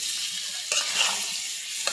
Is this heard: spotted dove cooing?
no